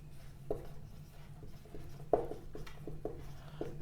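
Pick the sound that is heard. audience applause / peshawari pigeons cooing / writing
writing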